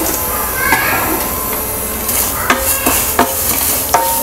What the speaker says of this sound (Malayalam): ചേർത്ത് കൊടുത്ത് നമുക്കിത് ഒന്ന് ഡ്രൈ ആവുന്നത് വരെ ഒന്ന് വറുത്തെടുക്കണം.